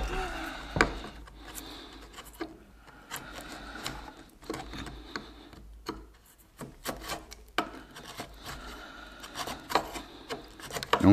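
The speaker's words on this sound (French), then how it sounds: "il faut enlever toutes les traces de colle pour pouvoir appliquer le produit" Glue residue is scraped off a wooden joint in short, irregular rasping strokes, close and moderately loud, broken by brief pauses and small knocks.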